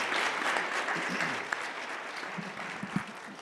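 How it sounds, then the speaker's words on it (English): An audience at a National Business Honor Society ceremony gives a steady round of applause, fairly soft and even, with a couple of sharper claps standing out. "Let's give them one more round of applause here."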